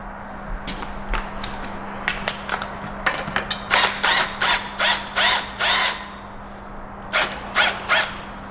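A ratchet tightens a nylock nut onto a MINI car's spring, giving bursts of rapid clicking in repeated strokes, close and loud over a steady low hum.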